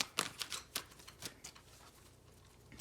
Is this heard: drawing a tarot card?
yes